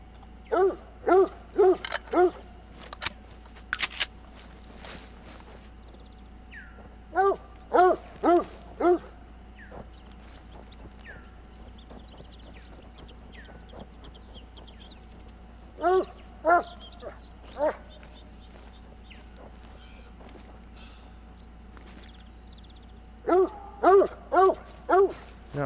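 A dog in theHunter: Call of the Wild on the Revontuli Coast map barks in tight clusters of sharp, repeated barks. The bursts come back several times with quiet gaps between them, loud and alone with no talking.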